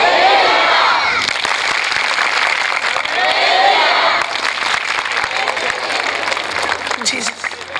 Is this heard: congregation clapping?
yes